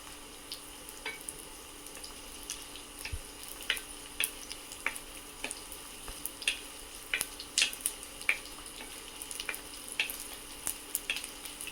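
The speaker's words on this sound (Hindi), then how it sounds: "तो देखिए मेरे गोंद भी अच्छा सा भुनना है।" Edible gum (gond) frying in a pan, a soft continuous sizzle with scattered crisp pops and crackles as the pieces puff up, close and quiet, with no speech.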